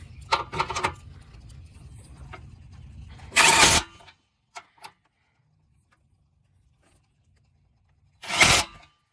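A hand ratchet tightening a bolt on a bumper retainer stay bracket of a 7th-generation Nissan Maxima, with a few rapid clicking bursts, a pause, then a final short burst of clicks, close and separated by near silence.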